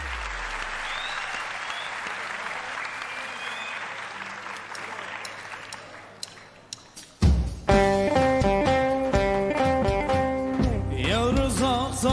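Studio audience at a Turkish televised singing competition quarter-final applauding steadily for several seconds before the clapping fades and loud music with a bright melodic line takes over.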